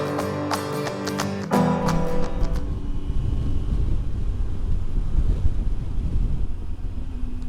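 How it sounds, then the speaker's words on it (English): Strong crosswind roaring past a motorcycle rider on a Utah highway, heavy steady buffeting rumble, preceded at the start by a few sharp clicking taps and a brief tonal hum. "So I'm hoping we're dropping down in elevation and maybe get out of this wind. It's been quite a crosswind here."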